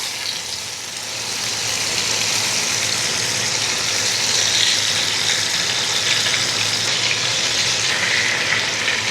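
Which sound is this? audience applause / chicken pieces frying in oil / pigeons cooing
chicken pieces frying in oil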